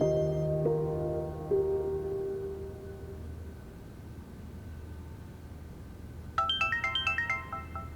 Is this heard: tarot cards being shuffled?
no